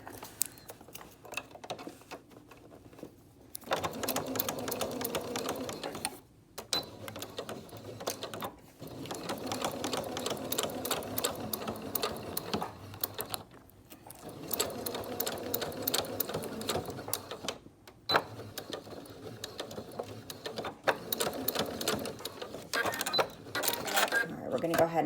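A sewing machine stitches fabric for a three-dimensional singer's mask, running in several steady bursts of rapid mechanical whirring separated by short pauses, close and fairly loud, with occasional handling sounds.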